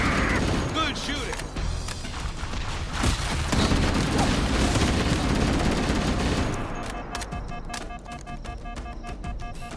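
Rapid bursts of gunfire in the video game Halo, including sniper shots, crackle loud and dense throughout, layered with booms and impacts while players talk over the action.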